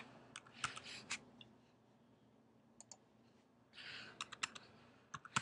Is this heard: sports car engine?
no